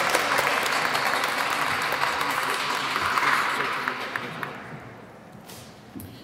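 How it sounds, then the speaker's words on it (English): An audience at a Hispanic Heritage Month closing ceremony gives sustained, steady applause that gradually fades out toward the end. "Let's give them a round of applause."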